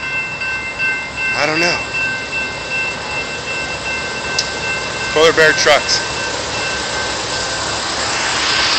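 A train rumbles steadily past a level crossing in Fresno, with a brief vehicle-horn-like blare near the start and clustered tonal bursts midway, while people talk over it.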